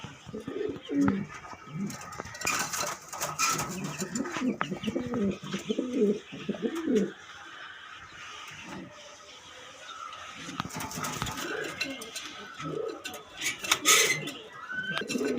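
A costly pair of pigeons, a male and a female, coo in low rolling bursts close by, with a quieter stretch midway and some light clattering noises.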